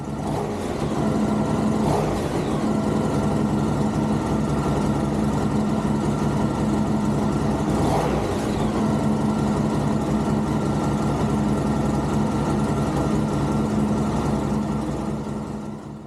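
Honda VFR1200F motorcycle engine running steadily close by during a coolant top-up, a constant mid-pitched idle drone with brief light revs, no talking.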